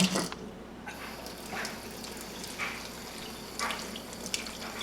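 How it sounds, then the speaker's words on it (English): Tap water runs steadily into a sink while lettuce leaves are gently rinsed, a fairly faint continuous splashing with a few small surges. "next you're going to want to gently wash the lettuce leaves"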